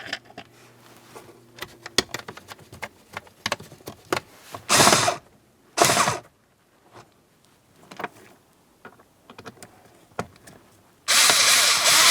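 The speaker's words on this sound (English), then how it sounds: "Once all of them are started in, you can go ahead and snug them up." A power tool snugs up the shock absorber mounting screws on a 2009-2019 Ford Flex, with several short whirring bursts separated by pauses and quiet handling noises, the last burst longer and steady.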